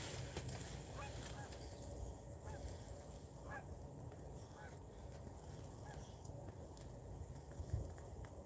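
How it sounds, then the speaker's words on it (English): Geese, a flock of about 30 landing, honk faintly in the distance, scattered calls over a steady outdoor rumble of wind and background noise. "Oh, there's some geese right there."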